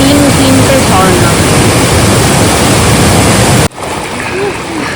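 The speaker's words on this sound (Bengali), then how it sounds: "তার সাথে এই ঝর্ণা, তিনটে ঝর্ণা" Three waterfalls pour beside crystal-clear water at a fish sanctuary in the South Garo Hills, Meghalaya, giving a loud, steady rushing roar that cuts off abruptly to a quieter flow near the end.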